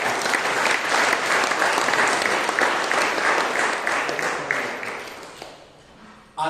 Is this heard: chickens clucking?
no